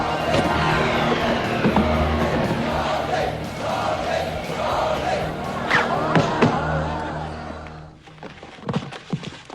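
A large Kumite tournament crowd from the film Bloodsport roars and shouts in a dense, loud wash that holds for several seconds, then drops away into scattered thumps and quieter noise near the end.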